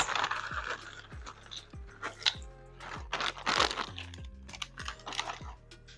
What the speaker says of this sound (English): And then for some crunch, my croutons.